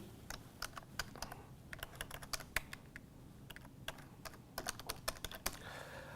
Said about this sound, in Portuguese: Aqui você vai começar a digitar o seu texto.